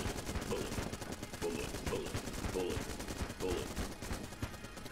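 Rapid gunfire from a low-tier gun in the video game Enter the Gungeon, a steady unbroken stream of shots with no talking.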